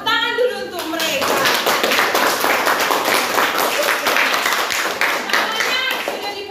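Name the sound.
classroom clapping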